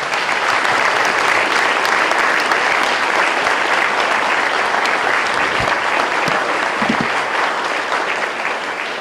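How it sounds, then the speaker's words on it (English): Sustained, dense applause from a large audience at a school Veterans Day event, steady and loud throughout with no pauses. "please help me with a big round of applause"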